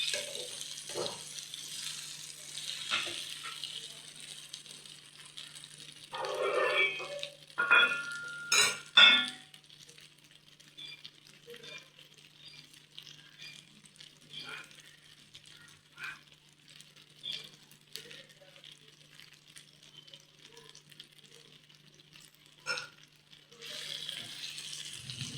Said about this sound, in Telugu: లో ఫ్లేమ్లో పెట్టుకొని ఇట్లా ఫ్రై చేసుకుంటూ ఉన్నానండి.